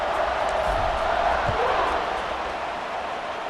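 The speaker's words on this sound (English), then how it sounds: "this crowd is buzzing after that last score" Stadium crowd in EA Sports College Football 26 keeps up a steady, dense roar after a touchdown, a constant wash of cheering with a faint thump near the middle.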